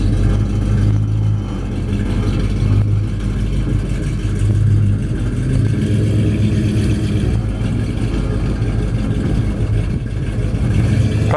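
A 1956 Ford F100 pickup with a big block 460 V8 rumbles steadily at close range, its deep engine note revving and holding throughout with no one talking.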